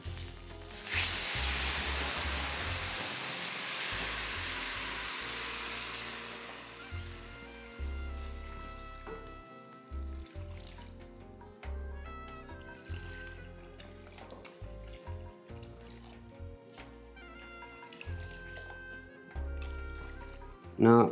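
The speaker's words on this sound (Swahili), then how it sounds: "niruhusie nichukue maji nije niongeze kwa kiasi" Water pours into a hot pot of bokoboko meat, hissing and sizzling loudly for several seconds, then fading into quieter bubbling and scattered clinks, with no talk over it.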